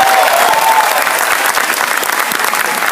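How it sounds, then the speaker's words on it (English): A convention audience at a Star Wars Rebels panel applauds a guest, dense loud clapping that holds steady throughout with a few cheers mixed in. "Let's hear it, ladies and gentlemen, for Tiya Sircar"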